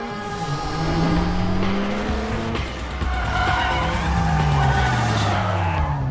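Street racing cars in the video game Need for Speed Carbon roar through continuous engine revving with rising and falling gear pitches, tires screeching and skidding through corners, loud and close with no talk.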